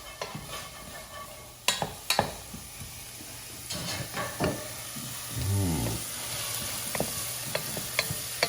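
Onions frying in butter in a pan, a steady soft sizzle underneath with occasional sharp clinks and scrapes of a utensil stirring, close and moderately quiet.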